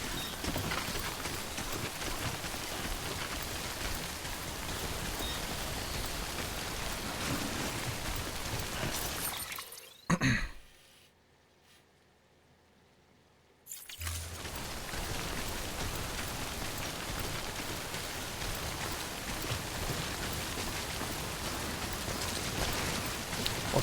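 Rain falls steadily in the video game Death Stranding, a constant broadband hiss of drops that drops out into near silence for a few seconds midway before resuming at the same even level.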